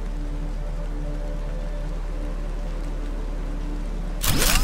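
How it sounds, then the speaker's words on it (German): Steady rain falls in the Planet Crafter video game, a constant even hiss over a low hum, ending with a short loud burst of game noise. "Es regnet."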